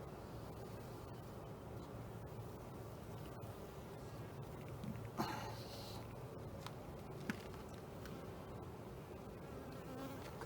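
Honey bees hum steadily around an Apimaye hive, a soft, continuous buzz at close range with a couple of brief knocks partway through.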